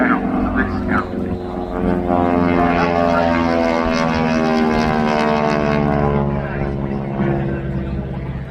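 A Hawker Hurricane with its 600-horsepower engine drones steadily overhead at the RAF Cosford airshow, the propeller roar loud and sustained with a slowly shifting pitch as it passes.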